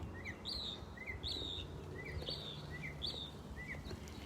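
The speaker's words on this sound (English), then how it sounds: "I think the birds are more talkative in the front." Birds chirp in front of a house, a repeating pattern of short high tweets at a steady pace, fairly faint and distant over low outdoor background noise.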